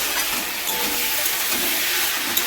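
Water splashed into a cooking pan of sauce for a Bengali potato, pointed gourd and egg curry: a steady loud steamy hiss and sizzle filling the whole moment, with a small tick near the end and no talking.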